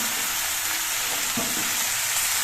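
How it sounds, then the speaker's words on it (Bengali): Vegetables for a lightly spiced vegetarian dish sizzle steadily in oil in a small wok, with a soft scrape or two of stirring partway through, close and continuous without any voices. "এবার সবজিগুলো দিয়ে আস্তে আস্তে নেড়ে চেড়ে সব কিছু দিয়ে মিশিয়ে নিতে হবে"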